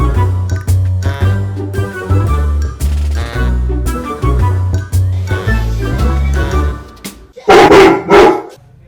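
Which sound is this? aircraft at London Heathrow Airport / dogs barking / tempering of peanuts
dogs barking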